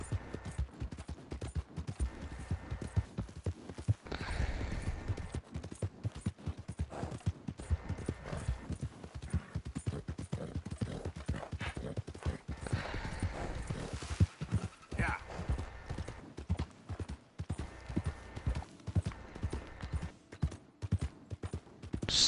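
Steady clip-clopping hoofbeats from a galloping horse in Red Dead Redemption 2, under game music and effects, with a voice talking over it throughout.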